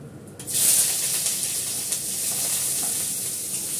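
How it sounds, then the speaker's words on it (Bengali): Nigella seeds and chopped onion hit hot mustard oil with a loud sudden sizzle that settles into a steady, dense, close frying hiss, with no talking. "কালো জিরে দিলাম সর্ষের তেলের মধ্যে, কিছুটা পেঁয়াজ কুচি দেব"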